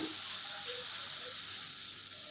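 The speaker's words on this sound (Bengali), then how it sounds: "খুন্তি দিয়ে এটা ভালো করে কষিয়ে নিলাম" Onion paste with ginger and garlic frying in a pan and worked with a spatula for a fish curry, a soft continuous hiss and sizzle, fairly quiet and even, with no talking.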